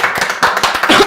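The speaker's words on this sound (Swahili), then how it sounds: "Tuhure makofi" Audience applause at a Kikuyu-language live show, a short burst of scattered clapping from a crowd, fairly close and steady for about a second, with faint voices mixed in.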